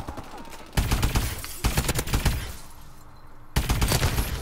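A directed energy weapon firing in Call of Duty Advanced Warfare, loud rapid automatic bursts in three sustained volleys separated by short pauses.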